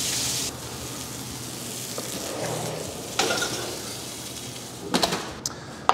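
Pork loin sears in a pan with the heat turned down a little, a soft steady sizzle with a few brief clatters and scraping bursts near the end.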